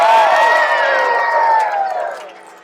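A camp crowd at a lumberjack show in Mackinac City, Michigan, cheers and whoops loudly with rising, sliding shouts that fade toward the end.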